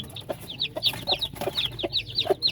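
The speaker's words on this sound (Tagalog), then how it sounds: "Yan po yung lahi ng aming chocolate Orpington na upgraded native." A big chocolate Orpington hen, an upgraded native breed, clucks repeatedly in short, evenly spaced calls, close and clear over a quiet farmyard background.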